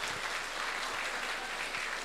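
Audience applause at a seminar on young entrepreneurs in the digital era, a steady dense wash of clapping filling the short moment at moderate, somewhat distant level with no voices over it.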